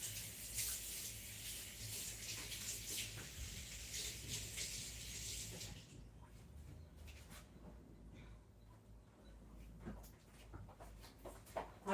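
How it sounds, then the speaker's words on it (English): Running tap water pours over hands at a home kitchen sink while baking, a steady broadband wash for about six seconds before cutting off, leaving quiet handling noises and small knocks. "Wash my hands first."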